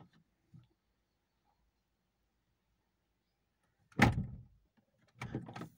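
Door of a 2002-2006 Honda CR-V opening, with a sharp latch clunk and rattle followed by a second burst of door and body noise in a quiet parked car.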